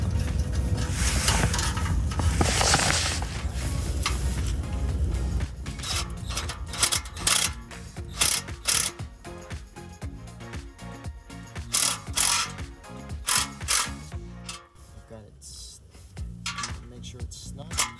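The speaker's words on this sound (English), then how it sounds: "So I am going to snug up my clamp just in front of the muffler." Ratchet snugging an exhaust clamp just in front of the muffler on a 2015-2021 Dodge Challenger 3.6L V6 during a cat-back exhaust install, giving a run of close, quick metallic clicks in bursts, with someone talking between them.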